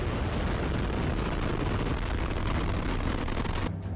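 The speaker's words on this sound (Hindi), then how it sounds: "उससे पहले रूस की इस नई लॉन्च मिलिट्री मिसाइल को देख लीजिए।" A newly launched Russian military missile roars with a loud, sustained broadband rumble throughout, steady and close, ending with a short drop-off near the finish.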